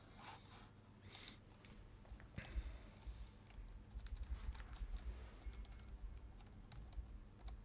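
Computer keyboard keys clatter in quick, irregular bursts of clicks close to the mic during a coding session, with no talking.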